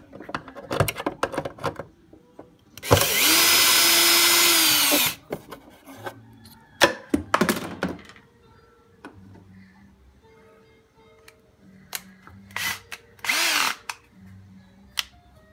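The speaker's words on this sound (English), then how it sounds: "Now a couple of screws to remove right here." A power drill spins out screws from a tail light assembly on a Yukon, one long steady whirring burst followed by a second shorter run, with clicks and handling noises between.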